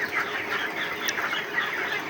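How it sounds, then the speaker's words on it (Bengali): Broiler chickens on a poultry farm cluck and murmur steadily as a dense, continuous flock chatter that fills the space evenly throughout. "তো দেখেন আমাদের মুরগির খামারটা"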